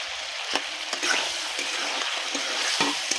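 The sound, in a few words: goat meat frying with fried spices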